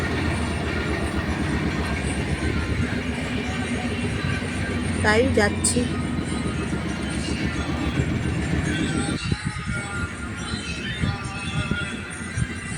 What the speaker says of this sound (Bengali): ট্রেনে চেপে যাচ্ছি এখন বর্ধমানে নামব